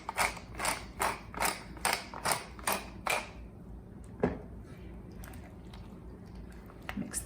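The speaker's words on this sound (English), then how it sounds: "I'm gonna give it a few cranks of pepper from a pepper mill" A hand-cranked pepper mill grinds pepper in about seven quick, close crunching bursts at an even rhythm, then stops, leaving a couple of faint clicks and quiet kitchen background.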